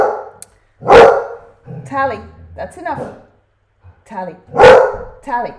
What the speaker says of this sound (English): So I'm sorry about the dog barking.